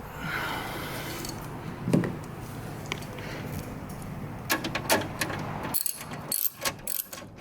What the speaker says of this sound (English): there is this 10 millimeters here. You need to take them off too.